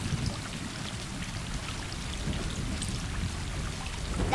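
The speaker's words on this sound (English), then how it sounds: "Hey, it's raining." Steady rain falls in the video game Stray, a soft continuous patter and hiss with a low rumbling undertone throughout, no voices.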